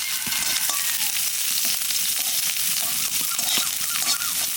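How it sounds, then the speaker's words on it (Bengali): Chopped garlic frying in hot mustard oil with cut cumin, a steady close crackling sizzle with small pops and faint stirring, no talking. "রসুনটা একটু ভাজে নিলাম"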